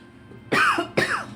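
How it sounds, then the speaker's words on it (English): Two quick, harsh coughs from one person, close and clear, in a room shared with cats. "I don't know why I cough so much."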